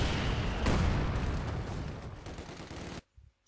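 Loud dense machine gun fire and rumbling battle noise in Company of Heroes 2, a continuous heavy barrage for about three seconds that cuts off abruptly.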